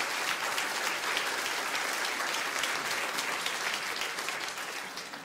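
Theatre audience applause fills the hall, a dense, even clapping from many hands that holds strong throughout and tapers slightly at the end, with no voices over it.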